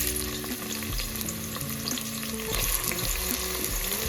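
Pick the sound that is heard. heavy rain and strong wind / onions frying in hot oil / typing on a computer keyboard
onions frying in hot oil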